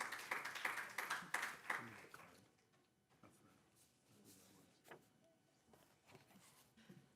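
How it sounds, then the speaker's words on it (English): A brief burst of audience clapping at a school board meeting, loud for about two seconds and then breaking off into scattered faint claps and room noise. "There is no clapping allowed."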